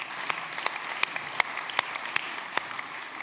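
Round of applause from the audience at the Circular Republic festival, dense steady clapping with a handful of crisp, prominent claps standing out from the crowd throughout.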